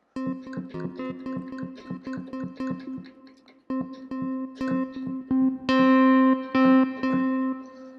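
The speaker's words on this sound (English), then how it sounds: "this is an FM jazz guitar. Let's try and apply distortion to that." A synthesized FM jazz guitar tone from a Yamaha YC keyboard repeats a steady, plucked note pattern, then turns buzzier and more sustained as the distortion effect kicks in.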